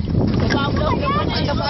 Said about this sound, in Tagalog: Ito yung hangin.